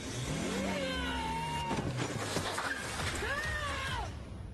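A car engine revving as the car drives at a person, a loud continuous engine roar with rising and falling pitch sweeps, up close.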